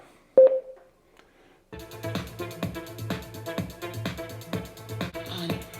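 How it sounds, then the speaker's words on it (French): A single sharp electronic beep sounds from an Olight speaker's Bluetooth button, then after a pause rhythmic music with a steady beat begins playing. "il suffit d'appuyer un coup sur le bouton Bluetooth. Il y a un signal sonore qui retentit."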